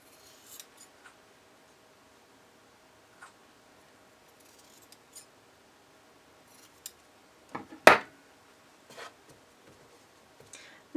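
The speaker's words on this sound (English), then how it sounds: "You may wish to trim your excess seam allowance so that the beak lies flat." Scissors snip the excess fabric seam allowance on a cockatiel plushie: sparse, quiet cuts spread across a hushed room, with one sharper, louder snip partway through.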